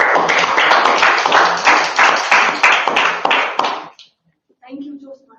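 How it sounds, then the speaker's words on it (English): A room of Toastmasters club members claps at a meeting for nearly four seconds, a close, loud and fairly rhythmic burst that cuts off abruptly, after which a voice starts speaking. "Can we give a round of applause?"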